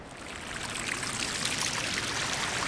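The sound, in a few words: waterfall on Kauai's North Shore hiking trail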